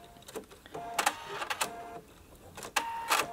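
A sewing machine stitches fabric around curves in short, quiet bursts of rapid mechanical chatter separated by pauses.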